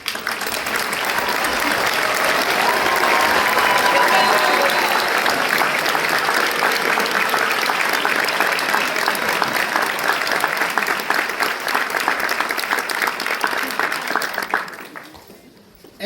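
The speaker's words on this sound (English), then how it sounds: "I ask all alumni to stand and be recognized so we can give you a big round of applause" A large audience at the Culinary Institute of America's baccalaureate ceremony applauds standing alumni, a dense sustained roar of clapping that holds steady before fading out near the end.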